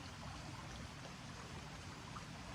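Stream water flowing steadily at a fixed camp, a faint, even broadband rush with no breaks and no voices.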